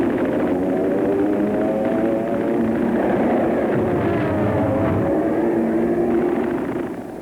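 P-51 Mustang fighter planes roar through air combat over Japan in World War II, a dense, continuous droning engine sound with a rough, grainy texture that holds steady and then tails off at the end.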